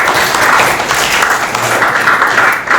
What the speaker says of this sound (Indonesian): Tepuk tangan untuk Satria.